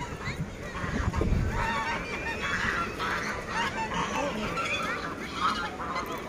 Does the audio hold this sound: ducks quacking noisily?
yes